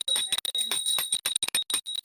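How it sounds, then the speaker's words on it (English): Small bell rung rapidly at a talk show, a quick run of bright metallic dings in a jittery, uneven rhythm, close and clear with nothing else heard. "Can we get a bell for all the parents?"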